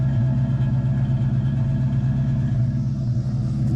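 A Mopar 340 V8 with W2 heads in a 1970 Duster rumbles through a Flowmaster 50 series muffler, a loud, steady, deep idle burble held close and constant, with no voices.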